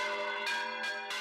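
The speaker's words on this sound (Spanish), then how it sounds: "Las campanas de la parroquia de San Andrés no han dejado de tañer" Church bells of the San Andrés parish ring in a sustained, resonant peal, with fresh strikes landing roughly every third of a second over a lingering hum, heard clearly and alone.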